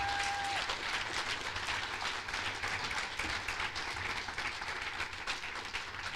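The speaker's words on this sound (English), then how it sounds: "let's give my team a whole round of applause" Audience applause for a local campaign team in Newark, a continuous even wash of many hands clapping for about six seconds at steady moderate level, with no talk over it.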